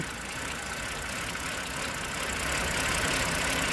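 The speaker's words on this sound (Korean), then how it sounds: "자, 시동 걸렸습니다." A car engine idles steadily just after starting, a continuous broadband rumble at moderate level that swells slightly toward the end, heard alone with no talking.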